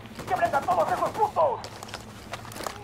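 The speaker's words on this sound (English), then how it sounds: "I'm opening fire on these shitheads" Gunfire in the video game Ghost Recon Wildlands: someone speaks first, then a string of sharp, close shots and crackling bursts rings out over a steady low background hum.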